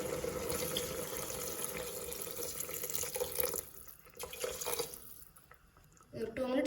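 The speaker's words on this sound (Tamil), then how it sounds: "இப்போ இந்த கிரேவிக்கு தேவையான அளவு தண்ணி ஆட் பண்ணிக்கலாம்." Water running into a pan of soya chunk kurma gravy, a steady close splashing pour that fades out partway through before a brief renewed sound at the end; a voice is heard faintly beneath it.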